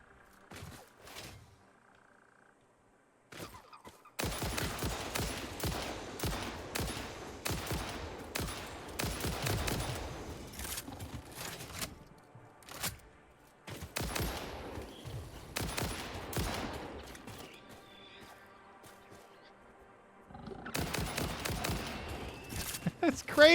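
Rifle fire in the video game Satisfactory comes in rapid automatic bursts, loud and close, separated by short quiet gaps across several volleys.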